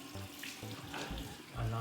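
Tap water runs into a bathroom sink while a man rinses his face, a steady close splashing flow with a few brief changes in tone as hands move through the stream.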